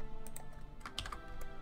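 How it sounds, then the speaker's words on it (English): Quick, light clicks of typing on a computer keyboard, a short run of separate keystrokes, close and fairly quiet with no one talking. "just typing out each character individually"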